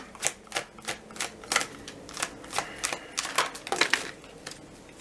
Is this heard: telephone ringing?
no